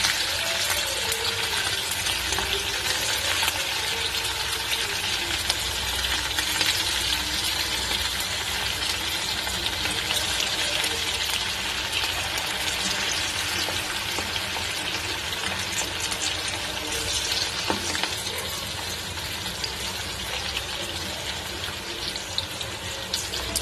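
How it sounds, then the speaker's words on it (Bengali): Chicken pakoras sizzle and bubble steadily in a pan of hot oil, a dense, continuous frying hiss close up and fairly loud throughout with no talking. "আর দেখো একটা একটা করে গরম তেলে এবারে এইভাবে ছেড়ে দিচ্ছি"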